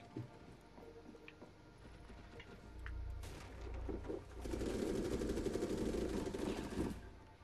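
Automatic gunfire in the video game Rainbow Six Siege: faint scattered shots, then a sustained rapid burst in the latter half that cuts off near the end, with no talk over it.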